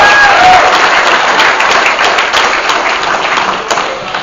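A convention audience in a large hall bursts into loud, sustained applause, many hands clapping densely and evenly, with some crowd noise and a brief whistle early on, fading slightly toward the end.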